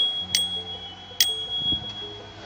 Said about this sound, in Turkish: Şöyle bir zil var.